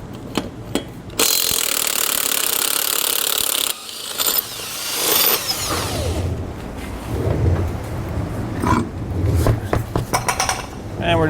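A power tool whirs in a loud, sustained burst for a couple of seconds while removing the 21 mm wheel nuts on a tandem axle travel trailer, followed by rattling, clunking handling noises.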